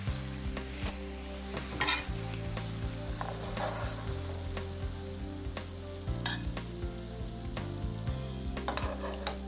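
Broccoli sizzles and bubbles in a reducing soy and mirin glaze as it is stirred in the pan, a soft steady frying crackle with scraping under quiet background music.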